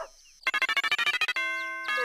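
A cartoon doorbell in Ed, Edd n Eddy rings with a rapid, loud string of stuttering chime pulses, then settles into a long sustained electronic ding-dong tone.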